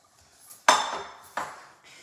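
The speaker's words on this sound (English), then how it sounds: "Gonna mix that in there real well" A utensil knocks against a bowl while chicken and onions are mixed: two sharp clinks with ringing tails, close and fairly quiet, separated by a brief pause.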